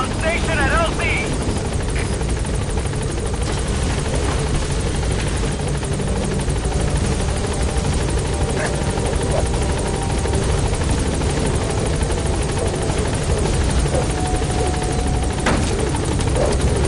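The Pequod helicopter in Metal Gear Solid V arriving at a landing zone, its rotor a loud continuous thrumming drone close by, steady throughout.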